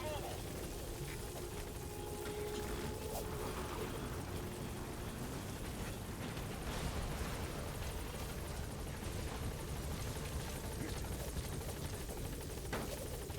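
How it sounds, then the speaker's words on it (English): Support helicopter in the video game Metal Gear Solid V, a steady whirring rotor drone that holds at constant level throughout, mixed with game ambience. "Support helicopter has arrived."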